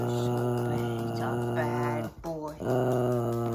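A dog growls in long, rising, snarling tones that stay loud and close, with a short break before the growl picks up again. The growl sounds comically exaggerated and may come from a person imitating the dog.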